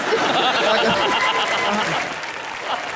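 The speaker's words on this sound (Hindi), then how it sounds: "जोरदार तालियां" Studio audience applause on a live Hindi comedy show, loud and dense at first, then easing slightly toward the end, with some voices and laughter mixed in.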